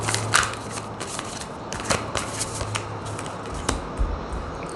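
A deck of tarot cards is shuffled by hand at close range, giving repeated soft riffling bursts and card slaps with a steady low hum underneath and no talking.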